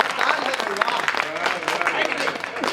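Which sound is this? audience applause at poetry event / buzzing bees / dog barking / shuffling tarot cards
audience applause at poetry event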